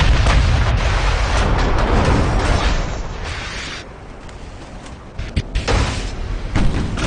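Battleship guns firing in a naval video game, a dense roar of heavy booms that eases midway, then a scatter of sharper blasts and thuds near the end.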